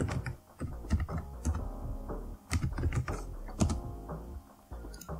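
Keys clacking on a computer keyboard as a file name is typed in Photoshop, a close, busy run of quick irregular taps with a few short pauses between bursts.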